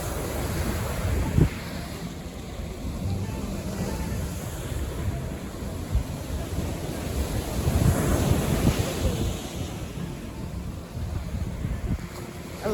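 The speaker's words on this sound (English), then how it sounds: "Atlantic Ocean, baby." Atlantic Ocean surf on the Liberian coast near Brewersville roars steadily, with waves breaking and swelling in the middle, mixed with gusts of wind buffeting the microphone; no one speaks.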